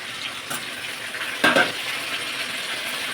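Tomato paste sizzles and fries in a pan while cooking Bengali-style ghugni, a steady crackle with a short louder burst of stirring or a utensil clink midway.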